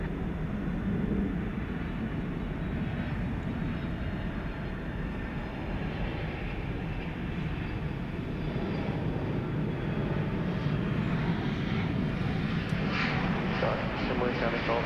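A jet taking off from a main runway at DFW Airport at night gives a steady, loud broadband engine roar that holds throughout, with faint voices over it.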